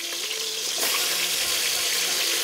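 Potato pieces go into a pot of hot oil, and a dense, bright sizzling crackle swells suddenly and holds steady and close, with no voices over it.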